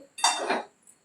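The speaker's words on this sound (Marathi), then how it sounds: "इकडं मी कढई ठेवते" A kadhai pan set down on a kitchen stove while cooking chicken curry, one short metallic clank and scrape with a faint ring, close and alone.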